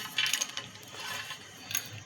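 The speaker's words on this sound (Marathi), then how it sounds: "मी मिक्सरच्या भांड्यात शेंगदाणे टाकून घेत आहे" Peanuts drop into a mixer jar in a quiet kitchen, giving a soft burst of small clicking rattles early on and another brief clatter later.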